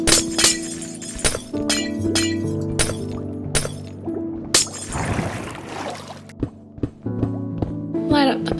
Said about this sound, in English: Just gotta break all the ice.